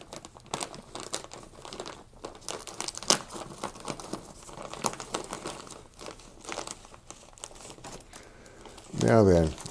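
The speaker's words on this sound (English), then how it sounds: "let's go ahead and cut our bag open." A bag of crushed grain for brewing is cut open up close, with continuous crinkling and rustling of the bag and a few sharper crunches. A brief voice-like sound comes at the very end.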